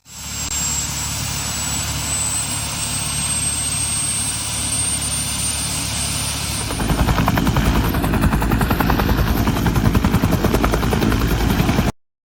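A helicopter roars steadily overhead, its rotor thudding louder and more rhythmic partway through, with a high engine whine fading out.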